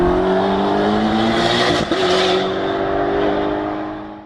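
A Chevrolet Camaro ZL1 sports car engine revs loudly and close by, a sustained roaring drone with a brief dip near the middle before climbing again and fading slightly toward the end.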